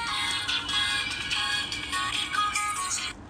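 A phone ringing in a rural farm household, a continuous electronic ringtone with a bright, repeating melodic pattern, steady and fairly loud, alone until it cuts off near the end.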